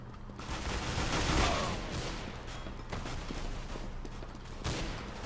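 Rapid bursts of video-game gunfire rattle on in a dense, noisy wash, mid-level and continuous across the stretch, with no one speaking over it.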